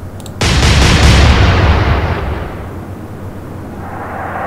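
Heavy naval gun salvo in the Atlantic Fleet naval battle game, a single loud booming blast that rolls and rumbles for about two seconds before fading into a low background drone.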